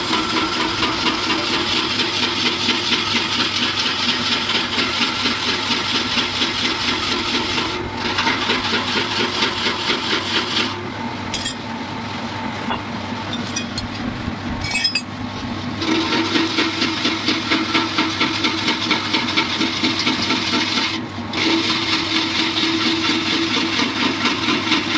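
A current-driven electric motor spins a wheel it is joined to, giving a steady, continuous whirring and rubbing drone with faint grinding texture that runs throughout, dipping briefly now and then before resuming at the same level.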